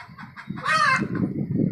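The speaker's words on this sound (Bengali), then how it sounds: "এই যে আমার বাচ্চাগুলো মুরগি, এগুলোর বয়স হবে আজকে প্রায় 10 দিন" About ten-day-old desi chicken chicks in a rooftop cage give one brief, high, warbling chirp. Lower soft clucking and rustling continue around it, close and without talk.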